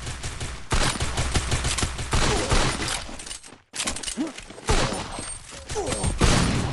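Dense volleys of automatic gunfire from a Free Fire match, loud and nearly continuous, broken by a brief silent gap midway before more rapid shots and impacts.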